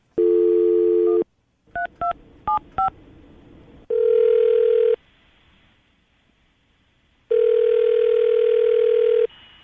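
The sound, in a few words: telephone dialing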